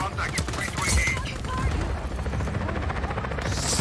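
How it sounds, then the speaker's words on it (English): Attack helicopters in the video game Just Cause 4 during a warship heist, a rhythmic rotor chop mixed with bursts of gunfire and explosions, with a voice speaking over the top. "So many choppers."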